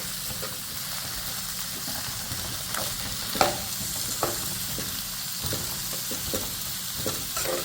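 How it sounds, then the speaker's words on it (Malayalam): Three onions sauté in a pan for a special mutton curry, a continuous close sizzle broken by scraping stirs and occasional clanks of the spoon, with no voices. "ഇപ്പോൾ നല്ലവണ്ണം വഴറ്റിയെടുക്കുക."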